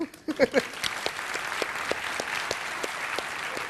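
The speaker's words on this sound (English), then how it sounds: "So please grant a warm applause to Mr. Shibata." A brief voice, then an audience breaks into warm, sustained applause, many hands clapping steadily and fairly close.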